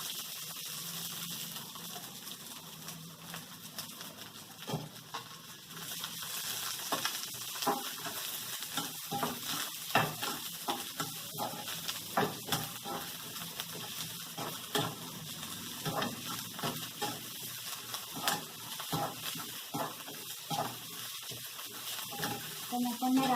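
Two chopped large onions sauté in oil in a kadai, giving a steady close sizzle broken by frequent scraping stirs throughout.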